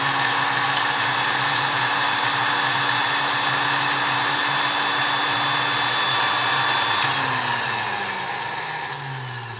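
A spice grinder whirs continuously as it grinds dry spices into powder for a Kasuri Chaas Murg masala. The loud, steady whine runs close by and winds down near the end.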